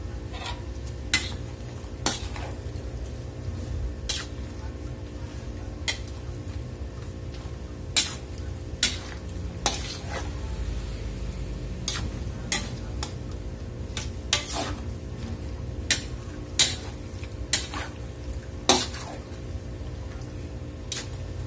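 A utensil stirs beef steak Tagalog in a pot, giving repeated sharp metallic clinks and scrapes at an uneven pace over a low steady background hum, close and clear.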